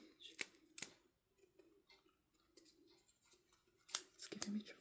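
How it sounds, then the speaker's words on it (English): A sticker peels off a page in a few quiet, crisp, close-up tearing snaps with short pauses between them, while a soft voice speaks faintly in a hushed setting. "I'm gonna get a new sticker"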